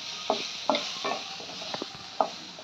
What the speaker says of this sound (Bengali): দেখো বরবটি ভাজা রেডি।